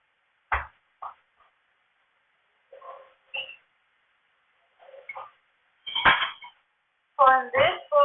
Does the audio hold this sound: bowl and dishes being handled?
yes